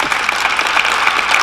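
An audience at a college graduation ceremony in Arizona applauds, a dense and steady burst of clapping that fills the whole moment.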